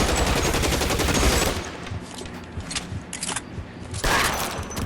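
Loud, rapid automatic gunfire in a police patrol game set in Los Angeles, a dense burst of shots followed by sparser cracks and another heavy volley, with no talking.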